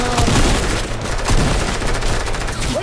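Video game gunfire in Fortnite Battle Royale Chapter 2 Season 3, a dense run of loud, rapid shots that carries on without a break.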